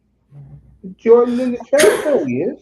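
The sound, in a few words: sneeze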